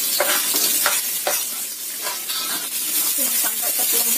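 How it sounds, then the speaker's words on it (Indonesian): Shallots and garlic sautéing in reused tofu-frying oil in a pan, a steady close sizzle with repeated stirring scrapes throughout. "kita tumis duluan."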